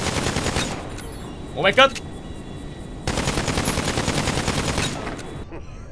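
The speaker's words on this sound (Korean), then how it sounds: "제가 바로 사격 모션을 볼게요. 준비하시고 발사!" Rapid automatic fire from an AP pistol in a shooting video game: two dense bursts of fast, loud shots, the second running about two seconds, with a brief excited exclamation between them.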